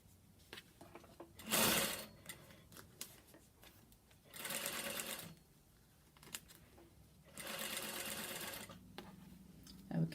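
A sewing machine stitches fabric-covered welt cord of cotton fabric in two or three sustained whirring runs of several seconds each, close and clear, with brief pauses and a voice talking between them.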